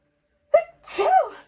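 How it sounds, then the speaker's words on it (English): A single sharp sneeze: a quick intake, then a loud burst of breathy noise, close to the microphone, with no talking. "Hold on a second, I have to sneeze."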